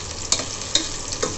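Onions frying in hot oil on a low flame while cooking a cluster beans curry, giving a steady soft sizzle with a few sharper crackles and stirring scrapes, close and alone with no talk.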